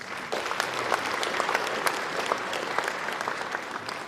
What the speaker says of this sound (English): it deserves a very big round of applause